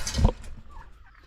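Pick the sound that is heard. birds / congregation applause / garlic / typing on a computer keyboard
birds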